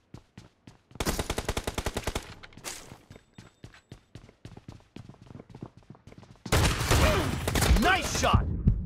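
Video game gunfire, crisp spaced single shots interrupted by two loud machine-gun bursts, the second long and dense, with sharp close reports throughout.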